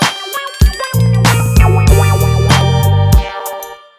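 Synth guitar plugin line programmed in FL Studio, sounding bright and distorted with a wobbling wah-like wow effect over sustained notes and punchy drum-like hits, loud and close.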